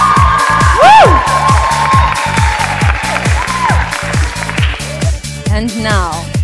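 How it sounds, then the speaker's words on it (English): Crowd at a South African beauty pageant cheering, whooping and clapping loudly and continuously, with a shouting voice leading over rhythmic background music. "Want to hear the cheer?"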